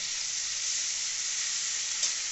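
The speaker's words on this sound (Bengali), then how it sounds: "1 মিনিট মতন ভেজে নেওয়া হচ্ছে" Onion paste frying in oil for a katla fish curry gives a steady, even sizzle throughout, close and moderately loud, with one brief flare near the end and no voices.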